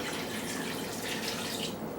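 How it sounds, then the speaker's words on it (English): About 20 ounces of water is poured into a green chile turkey casserole, a steady close splashing rush that runs without a break, with no talking. "we need to add some water"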